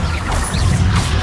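Bombarda spell blast in Hogwarts Legacy, a single loud crashing burst with a brief whooshing tail, close and alone.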